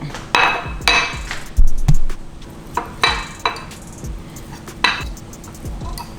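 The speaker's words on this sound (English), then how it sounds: "Fork and just mash it on up." A fork clinks and scrapes against a bowl while mashing cracked hard-boiled eggs, giving several sharp metallic taps spread irregularly across the stretch, close and fairly loud.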